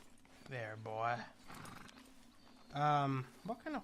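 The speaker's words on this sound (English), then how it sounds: "What kind of horse is this, I wonder?" A Shire horse in the game Red Dead Redemption 2 neighs in two loud, close whinnies with a pause between, while someone talks over the gaps.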